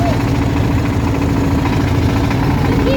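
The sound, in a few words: motor boat engine running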